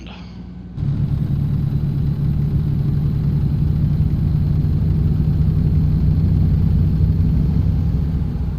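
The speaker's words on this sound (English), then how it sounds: "it sounds like gravel in the engine" A steady low truck engine rumble in American Truck Simulator with a rough, rattling texture like gravel in the engine, starting abruptly after a moment of quieter sound and holding evenly, loud and close.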